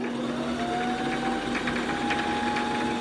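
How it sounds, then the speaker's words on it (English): Brother LS-1217 sewing machine winding its bobbin, a steady close motor hum with a rising whine that holds evenly for the whole stretch, with no talking. "all we're going to do is push the bobbin winder in, and then we're going to start pushing our foot pedal,"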